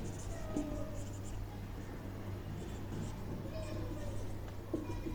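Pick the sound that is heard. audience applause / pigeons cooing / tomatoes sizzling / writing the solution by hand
writing the solution by hand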